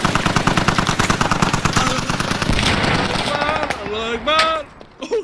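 Rapid automatic gunfire rattles close and loud in the military shooter game Squad, a dense burst of rhythmic shots that ends with a voice shouting over the fading noise.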